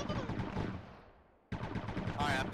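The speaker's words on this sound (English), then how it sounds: "That gun sounds so cool." Rapid gunfire rings out in a video game battle, a dense burst of shots that trails off into reverb, followed after a brief gap by another loud volley.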